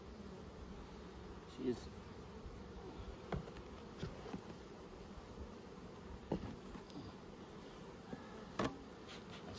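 Bees buzz softly and continuously close by, a low droning hum with a few brief louder passes, while a voice speaks quietly now and then.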